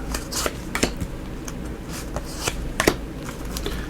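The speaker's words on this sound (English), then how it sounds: "And we will also pull some tea leaf cards here." Tea leaf oracle cards being shuffled by hand, producing a soft continuous riffling with light taps and flicks at close range over a low room hum.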